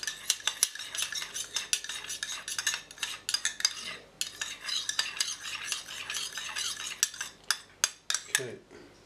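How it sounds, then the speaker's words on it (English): Egg tempera emulsion stirred in a small container, with continuous close scraping and clinking of a utensil against the sides, broken by sharp taps through the whole stretch. "just stir that up there"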